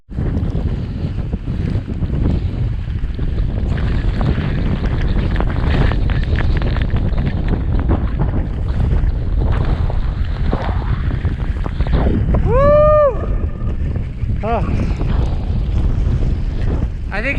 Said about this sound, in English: It's very windy and snowy.